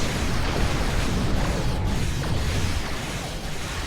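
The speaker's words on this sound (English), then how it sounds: "I realised it's my fighters firing" Dense, continuous mechanical rattling and clattering with a steady low rumble from starship fighters firing during a Voth event battle in Star Trek Online, with no talk.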